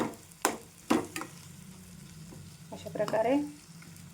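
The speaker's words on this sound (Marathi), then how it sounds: "बटाटा आहे ना पण आपण तेलामध्ये भाजून घेऊ छान" Potato pieces frying in oil for a potato and cowpea bhaji, a soft continuous sizzle broken by a few sharp stirring knocks, with a brief spoken phrase near the end.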